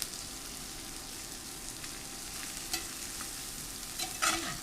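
Food being stir-fried and toasted in a pan, broccoli among it, gives a steady close sizzle with spatula scrapes and stirring clatter, plus a brief louder scrape near the end.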